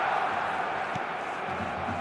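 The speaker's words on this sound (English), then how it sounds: "Crowd appreciates good football all round there." Broad crowd roar from a football video game stadium, a steady continuous wash of cheering and applause held at an even level throughout, with no distinct voices rising above it.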